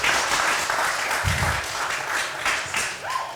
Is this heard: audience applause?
yes